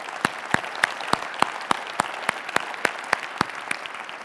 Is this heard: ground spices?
no